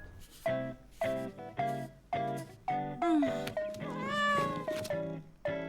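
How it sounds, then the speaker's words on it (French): A cartoon cat meows about eight times in a row, loud and close, with drawn-out, wavering cries near the end and no talk over it. "t'aurais pas envie d'adopter un chat?"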